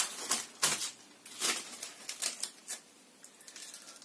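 Adhesive tape pulled from its roll and cut while making an insulating partition for a beehive, a few sharp tearing rasps and crackles in short bursts, close, followed by softer patting and handling, no voice.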